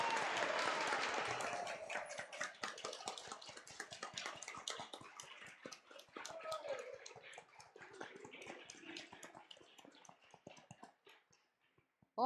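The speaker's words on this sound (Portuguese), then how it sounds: "vamos dar uma salva de palmas para o Padre" Applause at a Catholic thanksgiving mass for Father Samuel's ordination anniversary, a fairly quiet patter of clapping from the congregation that is strongest at the start and gradually thins out and fades over about twelve seconds.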